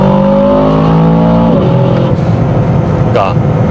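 Aston Martin DBX707 in Sport Plus mode kicking down from 2000 rpm, engine and exhaust note rising loudly in pitch, then dropping as the gearbox shifts, with a voice talking over the roar.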